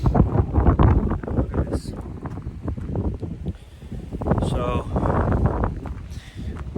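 Strong, gusty winter wind on Guadalupe Peak in Texas buffets the microphone with heavy low rumbling and flapping, continuous throughout while a person speaks briefly over it.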